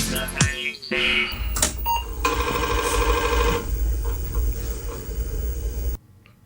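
A 5.25-inch floppy drive whirs and grinds, with clicking head seeks and buzzing motor noise over several seconds before cutting off abruptly.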